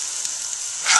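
Oil sizzling steadily in a gumbo roux for chicken and sausage gumbo, a continuous close hiss with a brief louder flare at the end, no talking.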